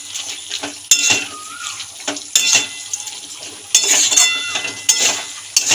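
Telakuchu (ivy gourd) greens seasoned with sugar and salt are stirred with a spoon in a pan: a soft simmering sizzle punctuated by four loud scraping strokes at irregular intervals.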